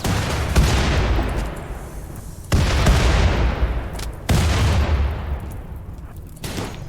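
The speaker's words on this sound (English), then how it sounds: "quit throwing grenades on me." Grenades explode in a RimWorld battle: four heavy booms, each with a long fading rumble, spaced about two seconds apart with no talk.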